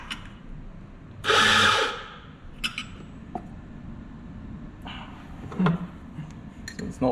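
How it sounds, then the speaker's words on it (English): A coffee grinder with upgraded burrs grinds espresso beans in a short loud whirring burst of about a second, followed by light clinks and handling noises nearby. "we have upgraded the burrs in that grinder to speed it up"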